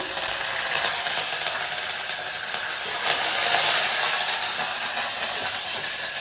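Curry leaves and tempering spices sizzle steadily in hot oil for a gongura dal and potato fry, a loud, continuous bright hiss close up with no talk.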